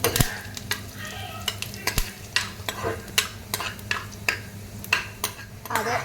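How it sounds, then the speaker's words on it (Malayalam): Onions and curry leaves fry in a pan for a dried-prawn, jackfruit-seed and mango curry, a steady sizzle broken by repeated scraping strokes of a spoon stirring against the pan, close and alone without talk. "നമുക്ക് നന്നായി ഒന്ന് മിക്സ് ചെയ്ത് കൊടുക്കാം കേട്ടോ."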